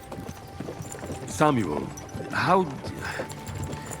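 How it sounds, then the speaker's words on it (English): Horses' hooves clip-clop at a slow walking pace in Kingdom Come: Deliverance II, steady and moderately close beneath someone speaking a short line. "don't you think maybe we could make the horses go a little faster?"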